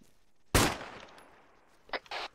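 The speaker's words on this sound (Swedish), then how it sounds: "Jag skjuter ett skott i luften nu." A single gunshot fired into the air in the military video game Arma cracks loudly and sharply, then trails off into a fading echo, followed by brief fainter noises.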